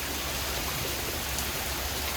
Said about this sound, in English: The rain has come. Oh, it is coming down.